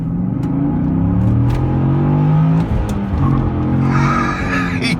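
A 2006 Cadillac CTS-V sedan's engine revs hard under acceleration, a loud, close roar that climbs in pitch, briefly dips as it shifts gear, then pulls again.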